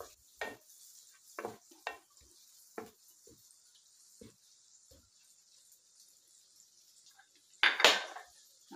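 Butter melting in a pan while being stirred for a garlic sauce: a soft sizzle with a few scraping stirs and light clinks of a utensil against the pan, then a louder burst of clatter at the end.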